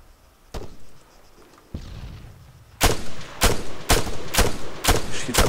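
Gunfire in ArmA 3: a couple of isolated shots early, then a rapid series of loud sharp rifle reports fired in quick succession, each a sudden broadband crack with short decay.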